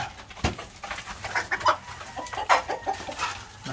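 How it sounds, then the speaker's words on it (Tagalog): Black Australorp hens nearly two years old cluck repeatedly on a small farm, a close, busy run of short calls with no one speaking. "So ito rin yung ating mga Black Australorp na malapit nang magto 2 years."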